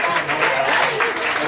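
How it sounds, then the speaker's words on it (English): Audience applause at a live comedy set at Cleopatra's Needle, a steady wash of clapping from a crowd that continues through the whole moment. "Let's give them a round of applause"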